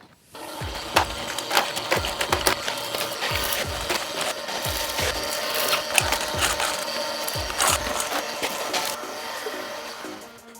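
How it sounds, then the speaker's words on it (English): Ice cream maker churning thick, stretchy ice cream, a busy mechanical whir with repeated clacking and grinding knocks in an uneven rhythm, heard close and alone. "We're gonna run this guy in the ice cream maker for 30 minutes."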